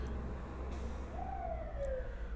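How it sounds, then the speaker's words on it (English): A distant emergency vehicle siren wails faintly in Brooklyn, a single rising and falling tone drifting over a steady low rumble of city traffic. "Sorry for the sirens, I live in Brooklyn."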